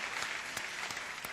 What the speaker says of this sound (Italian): un grandissimo applauso a Euronics Center Gross